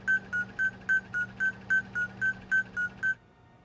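A scanner in the video game Nancy Drew: Alibi in Ashes gives a run of about twelve short, identical electronic beeps at an even, quick pace over a low hum, then falls silent.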